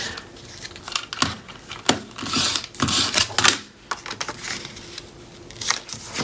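Adhesive tape being pulled and applied to a papercraft project, with irregular close crinkling, sharp tearing rips and tapping of paper handling, moderately loud with short pauses between bursts.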